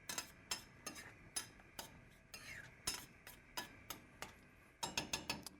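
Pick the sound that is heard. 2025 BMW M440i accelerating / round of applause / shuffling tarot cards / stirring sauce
stirring sauce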